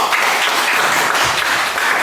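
Elementary schoolchildren at SD Bohalu clap together in a classroom, a loud, close, busy patter of many small hands that continues without pause for the full two seconds.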